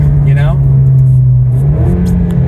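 An Alfa Romeo Giulia Q4 engine drones loudly and steadily while driving on a rainy road, with a raspy rev rising briefly near the end, heard from inside the car.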